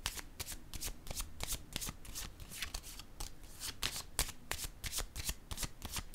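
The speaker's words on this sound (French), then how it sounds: "Je vais déposer maintenant une carte sur" Tarot cards handled and laid down during a reading, a steady run of crisp, close papery snaps and flicks for several seconds, with no talking over them.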